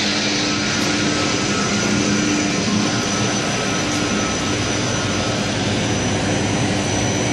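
A water pump runs continuously, feeding a homemade water meter, as one loud, steady, broadband roar with no change in pace and no voices.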